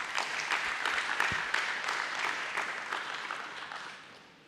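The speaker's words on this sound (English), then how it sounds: "Please give it a big round of applause." Applause from a crowd at a company stock exchange listing ceremony, dense clapping from many hands with a few sharper individual claps, steady at first and tapering off toward the end, no voices over it.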